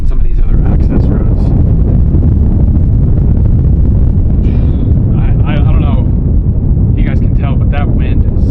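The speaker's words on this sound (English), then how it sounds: "That wind is real right now." Strong, cold wind gusts roar across the microphone at a remote fire lookout near 11,000 feet, a loud, constant buffeting rumble, with a few short voice-like bursts near the end.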